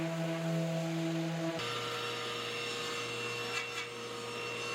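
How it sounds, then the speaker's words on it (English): A power sander working over a large cherry and walnut waterfall-edge desk panel, a steady close whirring rasp alongside a dust collector's drone, the tone shifting partway through. "And I spent a lot of time sanding this thing."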